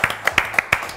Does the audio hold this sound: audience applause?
yes